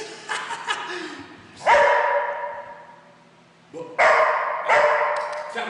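A small dog barks close by in short bursts, a few yips followed by pauses, loud and sharp.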